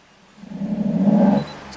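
A Jaguar S-Type V6 with low power revs up sluggishly, a low engine note that rises and swells for about a second before it cuts off, heard close.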